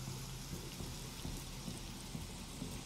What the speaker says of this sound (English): as you get closer to the door, you hear the more rain